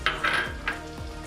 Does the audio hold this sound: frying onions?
yes